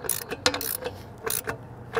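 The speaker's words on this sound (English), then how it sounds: "you can come back and tighten the bolt down." A 7/8 socket and wrench tightening the nut on a bolt of a Roadmaster hitch-mounted spare tire carrier gives a few quick ratcheting clicks and metallic clanks in short bursts, close and fairly quiet.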